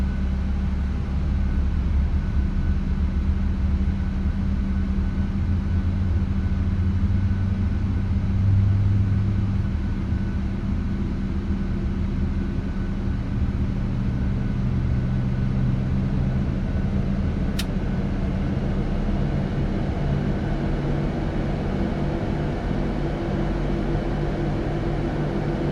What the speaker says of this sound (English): There it goes, and let's listen to these engines.